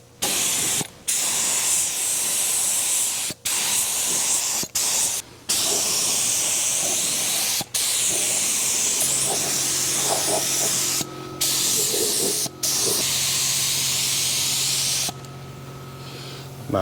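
A Harbor Freight spray gun sprays paint in several long hissing bursts separated by short pauses, loud and close, with a hum continuing near the end.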